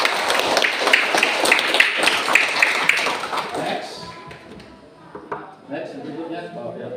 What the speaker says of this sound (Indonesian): tepuk tangan untuk Yus.